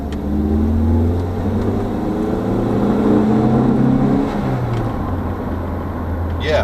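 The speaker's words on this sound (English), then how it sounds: "then we'll give it a bit of an acceleration test" An Austin Montego Mayfair 2.0 EFi engine hums and climbs steadily in pitch as the car accelerates on the road, heard from inside with a steady droning whir throughout.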